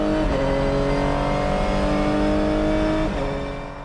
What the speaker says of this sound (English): We're in second gear now and accelerate as hard as possible.